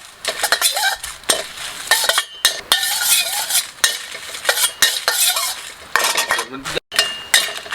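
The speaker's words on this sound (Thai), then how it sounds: "เนี่ยจะเป็นพริกแห้งครับแล้วก็คั่วพริกแห้ง คั่วไฟอ่อน" Dried chillies dry-roast over low heat in a pan, stirred with rapid, irregular scraping and clinking strokes of a utensil, close and fairly loud, with brief pauses between bursts.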